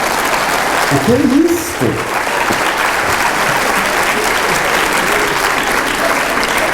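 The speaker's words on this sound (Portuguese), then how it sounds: "Nossa, as mulheres bateram palmas." Women in the audience at a public lecture in Lisbon applaud in a sustained, even wash of clapping throughout, while a voice briefly speaks over it near the start.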